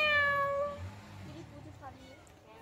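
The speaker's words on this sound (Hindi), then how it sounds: "म्याऊ, आजा, धीरे धीरे बोल भी रही है।" A pet cat at home during a family Raksha Bandhan gathering lets out a drawn-out meow, then softer short mews, close by and mixed with people talking.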